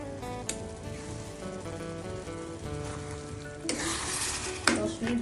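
Water poured into a frying soybean and chana dal curry, a bright hissing sizzle bursting up partway through over a steady simmer, close and loud, with background music running underneath.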